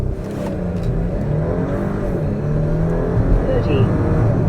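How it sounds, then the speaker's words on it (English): Porsche SUV engine revving and pulling hard from a launch-control start, a loud steady low roar that builds through the run, with speech present over it. "We're gonna go all the way down on the gas, and that should put us in launch control."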